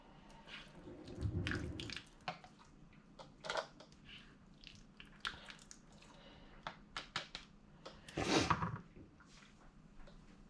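Liquid is poured into a canning jar of taco meat in a kitchen, giving short splashy gurgles in several bursts, strongest near the start and again near the end, with quiet gaps between.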